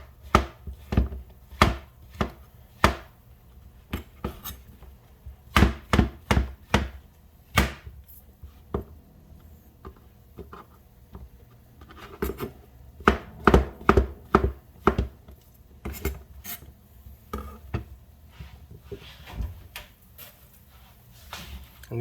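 King oyster mushrooms are chopped on a board with a knife, giving crisp knocks in irregular clusters and quick runs with short pauses between them. No one speaks.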